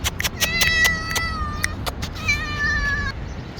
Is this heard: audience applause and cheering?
no